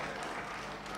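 A church congregation claps during a charismatic sermon, a brief, faint, steady patter of hands heard at a distance with no one speaking.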